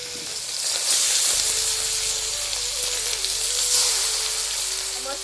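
Katla fish fries in hot oil in a pan with chili powder, giving a steady, close, continuous sizzle and crackle that runs unbroken with no talk.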